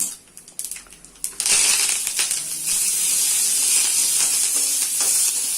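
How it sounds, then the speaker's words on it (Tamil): Dried turkey berries, okra and curry leaves are added to hot oil, with a few clinks and rattles followed by a sudden burst into a loud, steady, hissing sizzle that lasts to the end. "சுண்டக்காய் வத்தல் நல்லா பொரிஞ்ச உடனே வெண்டைக்காவும் கருவேப்பிலையும் போடலாம்"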